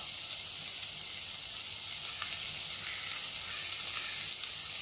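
Sauces poured into a hot frying pan for egg Manchurian, a steady bright sizzle and crackle filling the whole stretch, close and moderately loud, with no voices.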